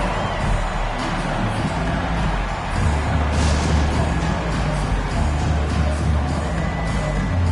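Arena crowd noise during a timeout in the NBA 2K24 basketball game, a dense steady roar of cheering and chatter that stays loud throughout, with a few whoops rising briefly.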